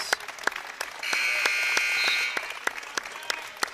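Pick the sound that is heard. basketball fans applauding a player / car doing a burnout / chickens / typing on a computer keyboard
basketball fans applauding a player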